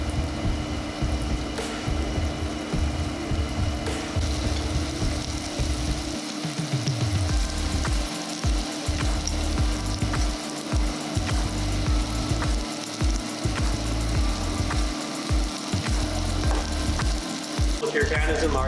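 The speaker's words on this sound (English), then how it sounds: "I'm going to throw in my beef, and I'm going to make sure not to overcrowd my pan." Beef browning in an uncrowded pan gives a steady, loud frying sizzle that runs throughout, with occasional stirring clatter and utensil scrapes breaking in near the middle and end.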